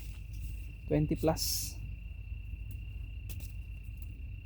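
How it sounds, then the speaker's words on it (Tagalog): A steady, thin, high cricket chirp runs through the whole stretch near a garden, while a person speaks briefly over it. "Kuliglig."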